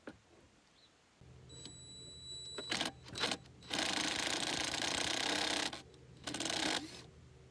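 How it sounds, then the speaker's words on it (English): An impact wrench fitted with a T40 bit hammers out the blade bolts of a Sun Joe chipper shredder, with loud rattling bursts of varying length broken by short pauses over a low motor hum, close by. "let the impact wrench do its thing"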